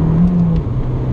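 A 160 hp Abarth 595 Competizione with a 1.4-litre engine gives a deep steady exhaust drone that dips slightly in pitch partway through, loud and close, heard alone.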